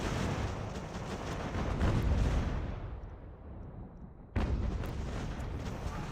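Mortar fire on an Ultimate General: American Revolution battlefield, deep rumbling booms that swell and fade, cut briefly before another loud blast kicks in, with no talk over it.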